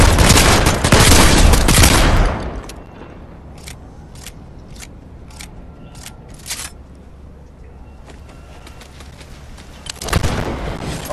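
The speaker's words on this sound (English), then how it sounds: "Oh, that's you throwing nades." Grenade blasts in Fortnite, a loud burst of explosive noise for the first two seconds, then a quieter stretch of short sharp pops, with another heavy blast near the end.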